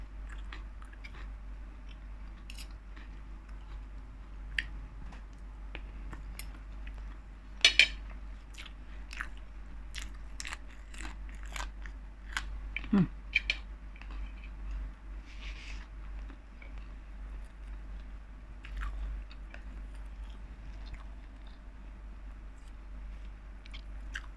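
Someone chews sun-dried salted fish close up, with sparse crunchy bites and soft squishy chewing over a low steady hum and no talking.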